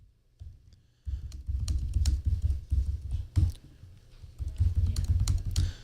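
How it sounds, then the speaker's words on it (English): Rapid clattering keystrokes on a computer keyboard, typed continuously in close, steady bursts with short pauses, loud and alone without talk. "So I'm just typing into this"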